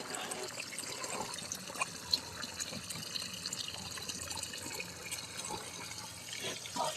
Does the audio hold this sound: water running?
yes